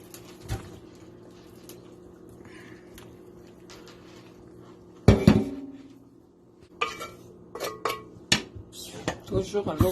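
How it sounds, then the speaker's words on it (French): Clatter of a saucepan being handled and rinsed in cold water, with splashing bursts and clinks of metal, a quiet stretch in between. "Toujours en eau froide, je rince en premier ma casserole."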